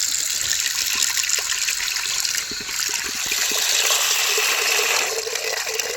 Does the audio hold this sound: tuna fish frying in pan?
no